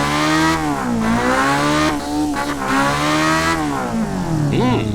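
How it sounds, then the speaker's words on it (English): A car engine revs hard in the BeamNG driving game, loud and continuous with rising and falling pitch sweeps as it accelerates and shifts, fitted with a muffler. "That's a good sounding engine."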